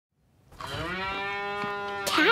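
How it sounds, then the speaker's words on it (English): A cow moos in one long, loud, sustained call close by, rising in and holding steady, with no talking over it. "It's our cow friend!"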